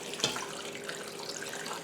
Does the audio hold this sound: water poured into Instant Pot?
yes